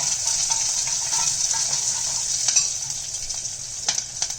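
Chopped ginger, garlic and slit green chilies fry in hot oil, giving a steady, loud, hissing sizzle. Occasional scraping stirs from a utensil in the pan break through it.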